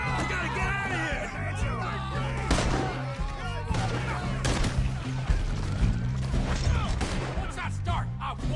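Red Dead Redemption 2 shootout: repeated sharp gunshots crack amid a chaotic mix of yelling voices and game music, dense and loud throughout.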